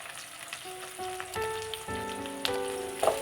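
Onion, garlic, green chilli and curry leaves fry in hot oil right after mustard seeds pop, a close steady sizzle with sharp crackles and a few bursts toward the end, no voices.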